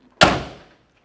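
A single solid thud as the passenger door of a 1983 Ford Mustang convertible swings shut, a sharp close followed by a short decaying ring, then quiet.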